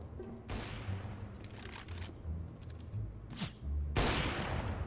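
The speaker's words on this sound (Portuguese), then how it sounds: "Um disparou pela caixa." Bursts of gunfire in CS:GO, several sharp cracks and a heavier volley near the end, over a busy game soundscape.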